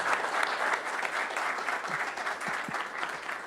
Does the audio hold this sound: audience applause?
yes